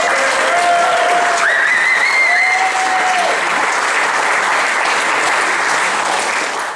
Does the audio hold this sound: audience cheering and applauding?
yes